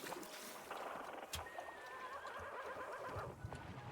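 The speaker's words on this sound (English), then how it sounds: "Is there a horse on the radio?" A horse neighs from a radio inside the cozy tea-shop video game Wanderstop, a faint whinny among clattering game sounds and soft ambient music, no talking.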